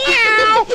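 A voice imitates a cat, drawing out a single loud, close meow that rises then falls, heard alone without other talk.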